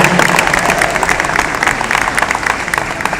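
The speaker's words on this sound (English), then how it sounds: "I want you to give a round of applause to all the other presenters" An arena audience at a motivational speaking event applauds the presenters, a dense, steady wash of many hands clapping at once, loud and continuous.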